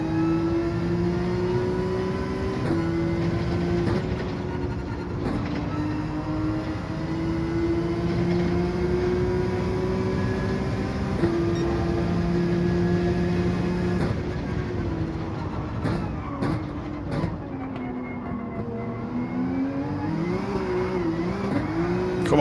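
A race car engine in a racing video game drones steadily with repeated rises and drops in pitch as it shifts and revs through corners, loud and continuous throughout.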